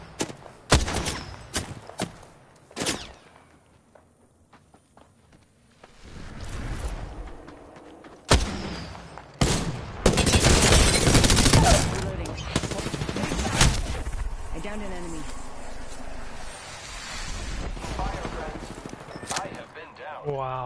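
Sharp gunshots and rapid automatic bursts crack out in scattered clusters in a night-mode Apex Legends match, mixed with other game noises and some talking.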